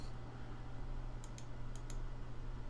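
A computer mouse clicks while a video is edited in Windows Live Movie Maker on a PC. Four quick, sharp clicks sound close over a steady low electrical hum.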